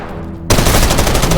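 Sudden burst of rapid automatic gunfire in the shooter game Zero Hour, loud and close, kicking in after a short quiet moment and rattling on continuously.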